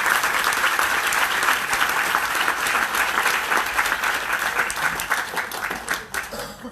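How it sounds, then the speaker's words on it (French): Sustained applause from a conference audience, dense and steady with many hands clapping together, holding at an even level before thinning slightly near the end. "si vous voulez les applaudir."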